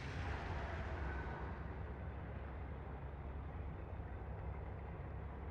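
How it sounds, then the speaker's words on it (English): A sea truck's engine in the underwater game Subnautica: Below Zero gives a low, steady rumbling drone with a broad hiss, continuous and fairly quiet. "How do we feel about the sea truck's engine noise"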